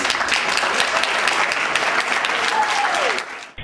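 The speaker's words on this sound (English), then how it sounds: "Let's give another round of applause for all our candidates." A debate audience claps for all the candidates, loud, dense and steady, tapering off near the end as a brief voice cuts through.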